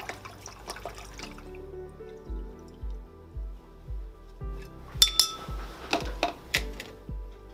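Citric acid solution is poured into a bottle, producing a rhythmic series of glugging, dripping pulses with small glassy clinks, fairly close and quiet.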